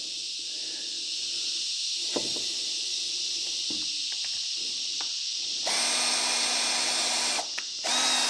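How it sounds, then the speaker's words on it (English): Power drill countersinking holes in a polyurethane boat slide, whirring steadily in close bursts with brief pauses and a louder, higher run near the end. "So we're just going to countersink enough so that seats into the polyurethane slide."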